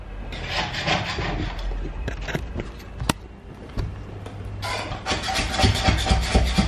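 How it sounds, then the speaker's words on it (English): A flexible putty knife scrapes across an old wooden subfloor inside a step van, giving rough rasping strokes in uneven bursts, with a few sharp knocks and a busier stretch of scraping toward the end. "Number 1, putty knife. Okay, so I try the putty knife."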